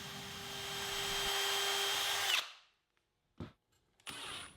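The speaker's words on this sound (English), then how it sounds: "I'll use a 3/32 drill bit to pre-drill holes for the screws." A power drill fitted with a 3/32 bit pre-drills screw holes in wood for a drawer on an entryway table, whining steadily for over two seconds, then stopping, followed by two brief short bursts.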